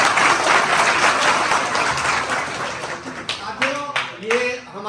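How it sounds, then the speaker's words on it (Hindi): Students and audience at a school health and wellness program clap together, a broad burst of applause that thins out as a voice begins speaking over the final seconds. "ताली तो बजाओ इधर से"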